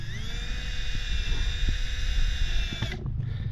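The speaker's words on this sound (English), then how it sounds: "grab a drill, grab some screws, and screw her in" A power drill driving screws into an RV whines at high speed for about three seconds, with faint clicks underneath, then cuts off abruptly and spins down.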